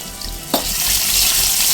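Crushed garlic hits hot oil over low flame and bursts into a loud, close sizzle with a sharp initial crackle, then settles into a steady frying hiss.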